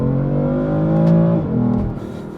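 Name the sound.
BMW M3 engine revving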